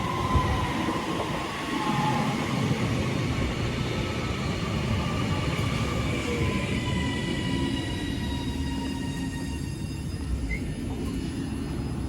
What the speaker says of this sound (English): No, it's stopping, I can tell now, but it's starting to slow down.